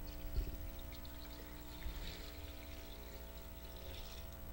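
Water pours into a cooking pot fitted with a rack for sterilizing jars of jam, a soft, quiet gurgling stream heard close by without talking.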